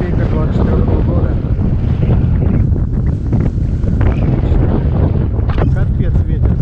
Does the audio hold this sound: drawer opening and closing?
no